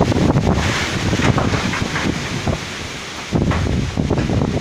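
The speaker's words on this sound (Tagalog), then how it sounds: "Napakalakas ng ulan at napakalakas ng hangin." Strong typhoon wind in Batangas, Philippines, with very heavy rain, roaring and buffeting the microphone in loud, continuous gusts, with brief lulls before surging again.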